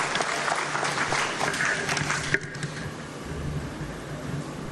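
An audience at a Karmaveer honours ceremony applauds loudly to welcome a guest, steady clapping that thins and fades after a couple of seconds into a softer patter of scattered claps.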